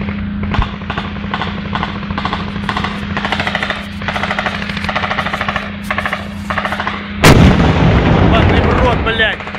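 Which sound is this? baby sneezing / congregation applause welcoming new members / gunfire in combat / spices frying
gunfire in combat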